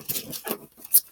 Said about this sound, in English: So that's shuffling.